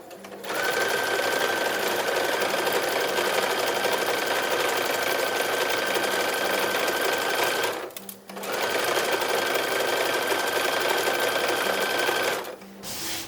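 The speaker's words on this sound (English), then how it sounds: "now this gets machine sewn" Sewing machine stitching a collar facing for an 1860s gown, running in two long steady bursts with a brief pause between, close and fairly loud with a constant mechanical whir.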